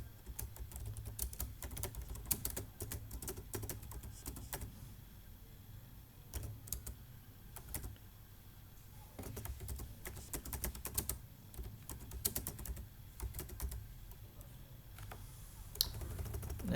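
Steady bursts of typing on a computer keyboard, close and fairly quiet, with clustered key clicks, short pauses and occasional louder taps, set up while writing a Facebook business page post.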